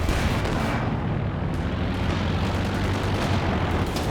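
Strafing-run gunfire in Company of Heroes 2, a dense, continuous roar of booming artillery-like fire and rapid shots filling the whole stretch at steady loudness, with no talk.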